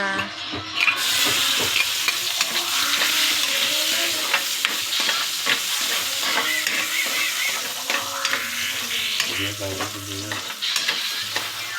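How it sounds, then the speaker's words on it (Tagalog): Sautéing in a pan of oil left over from frying tilapia, with a loud, continuous sizzle broken by repeated scraping stir strokes, all without voices. "Magigisa na po tayo."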